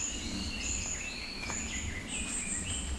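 Birds sing in the forest on Mt Kurokami in Saga, with several thin, high chirps and whistled phrases from different directions. They sound moderately distant over a soft outdoor hiss, and insects buzz faintly in the background.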